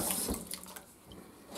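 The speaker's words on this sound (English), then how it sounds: "I do rinse with warm water to make sure I get all the soap off." Warm tap water runs steadily into a kitchen sink while dishes are rinsed, with a close, continuous splashing hiss and a few light clinks.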